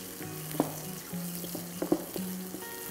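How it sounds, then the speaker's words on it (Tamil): Chopped onions and curry leaves fry in a pan for a Tamil crab masala, giving a steady close sizzle with a low hum underneath and several sharp clinks and scrapes of stirring. "ஸோ வெங்காயம் வந்து ஓரளவுக்கு நல்லா வதங்கியிருக்கு"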